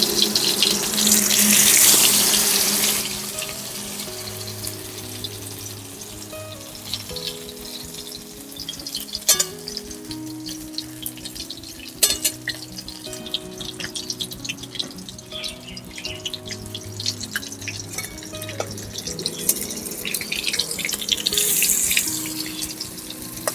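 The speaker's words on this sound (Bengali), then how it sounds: "আমি এক এক করে কিন্তু বড়াগুলোকে ছেড়ে ভেজে নেব তেলে" Cabbage and pumpkin-leaf fritters made with ground lentil paste sizzle in hot oil in a kadai, a steady broad hiss with a few sharp pops throughout.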